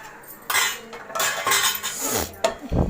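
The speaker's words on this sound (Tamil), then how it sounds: "இப்போ வந்துட்டு மூடி வச்சிடலாம்" A metal lid goes onto a pot of spicy chicken gravy, with clattering cookware clinks and scraping, a bright rattling crash near the end as it settles.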